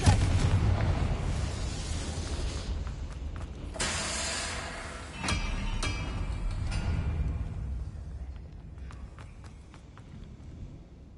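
Confringo spell blasts in the Hogwarts Legacy video game: several sharp explosive bursts and booms over a busy game soundscape with rumbling mechanisms and a galloping hoof-like patter, no talking.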